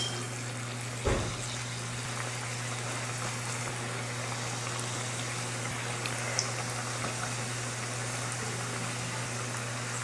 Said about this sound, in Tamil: இப்போ எண்ணெயில் போட்டு பொரிச்சு எடுத்துக்கலாம்